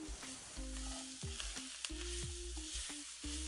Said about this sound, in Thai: พอกระเทียมเริ่มสุก ใส่หมูสับลงไป ปริมาณตามใจชอบได้เลยนะ ผัดจนหมูสุก